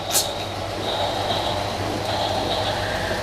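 A toy train with cars runs along its plastic track past a toy station, giving a steady mechanical whir and rattle, close and fairly loud, with a brief higher click near the start.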